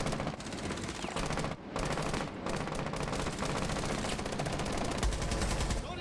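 Rapid bursts of video game gunfire crackle continuously and loudly, dense automatic shots layered with a busy game soundscape and no talking.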